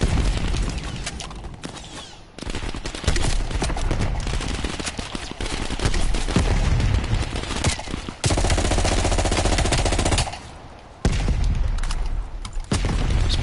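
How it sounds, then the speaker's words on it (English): Loud, dense gunfire with booming blasts from a grenade in a Call of Duty Cold War campaign mission, nearly continuous for the whole stretch with short breaks of quiet. "Grenade out."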